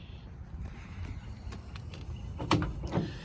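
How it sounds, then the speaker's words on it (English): Quiet background hum, then two sharp metallic door clunks near the end, close by, as the doors of a restored 1941 Ford pickup truck shut. "The doors open and close just real nice."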